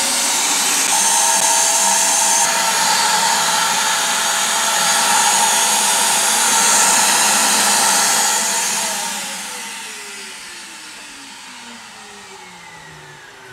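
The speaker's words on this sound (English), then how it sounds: "Now let's go ahead and run the vacuum." A vacuum cleaner powered by a portable power station whines steadily at close range with a strong airy roar, then its motor winds down and the pitch falls as it switches off.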